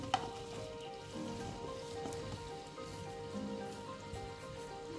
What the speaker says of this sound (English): Into the same oil, I will now fry the remaining of the veggies